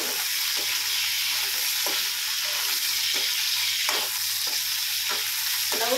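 Chicken pakoda fries in a pan, giving a steady loud sizzle of hot oil broken by regular scraping strokes of a spatula about once a second, with no talking.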